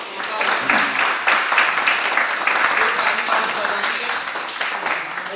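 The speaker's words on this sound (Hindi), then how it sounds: "एक बार तालियां बजाइए" Listeners at a Hindi poetry gathering clap in a lively, uneven burst of applause lasting several seconds, with a voice talking over the clapping throughout.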